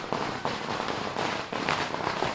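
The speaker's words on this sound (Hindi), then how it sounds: "बाहर जश्न मनाया जा रहा है, पटाखे फोड़े जा रहे हैं" Firecrackers burst outdoors at a street celebration of Arvind Kejriwal's bail, a dense, loud run of sharp cracking pops in quick, irregular succession with no pause.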